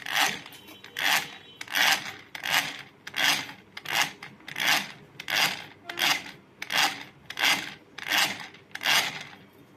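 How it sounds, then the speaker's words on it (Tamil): An electric egg beater whips egg whites in a bowl for a vanilla plain cake, making a steady run of rhythmic rasping swishes about every 0.7 seconds. The sound is close and moderately loud, with no speech. "ஒயிட்டை இந்த முட்டை அடிக்கிற மிஷின் வச்சு நல்லா பொறுமையாக நல்லா சாஃப்டாக அடித்து எடுத்துக்கலாம்"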